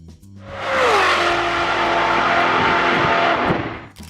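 A 1994 Chevrolet Corvette with an LT1 engine revs up loudly nearby, rising in pitch and then holding a strong roar for a few seconds before cutting off.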